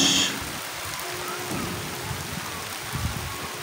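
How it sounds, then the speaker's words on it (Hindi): Steady rain falling on a city during a monsoon downpour, a dense, even hiss that holds at a moderate level without a break, with a brief low rumble partway through and no voices. "फिर आ गई बारिश, फिर बारिश।"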